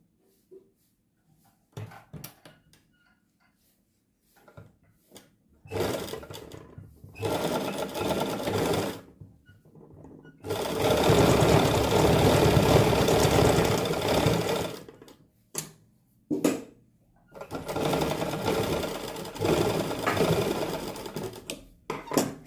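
A sewing machine stitches a belt for a salwar in several close bursts of rapid mechanical whirring and clatter, separated by short pauses, with no talk over it.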